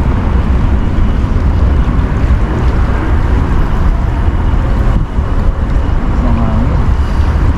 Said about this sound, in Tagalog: Ay, lakas ng hangin, lakas ng hangin.